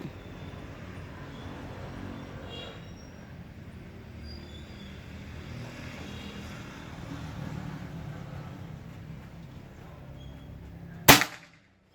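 A single sharp, loud crack from a PCP air rifle, the Pajero Gun Full CNC Gen 5, fired during a target session in Depok, West Java. It comes near the end after a stretch of low, steady background rumble.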